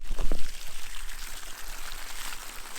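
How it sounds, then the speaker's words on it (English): Water gushing steadily out of a farm pipe into a stream, a continuous broad rushing wash, fairly close and loud, with a few brief knocks early on and no talk. "Look at that stream."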